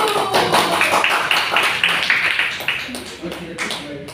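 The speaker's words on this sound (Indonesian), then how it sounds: "Kita beri tepuk tangan dulu." A crowd clapping steadily throughout at a Qur'an and Hadith presentation, with voices mixed in over the dense patter of hands.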